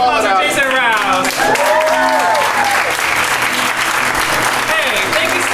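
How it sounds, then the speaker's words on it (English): A comedy show audience breaks into loud, sustained applause, dense clapping filling the room throughout, with cheers and whoops rising over it near the start. "One more round of applause for Jason Rouse."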